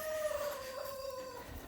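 A rooster crows in one long, drawn-out call lasting nearly two seconds over steady farmyard background noise, fairly close and clear.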